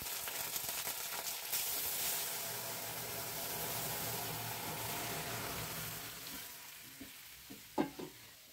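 Five-spice tempering and ginger paste sizzling in hot oil for a vegetarian moong dal, a steady broad frying hiss that fades toward the end, with a few sharp stirring clinks near the close.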